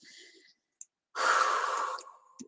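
Close, soft breathing: a short exhale, a pause, then a long deep breath out that trails away, with a small click between.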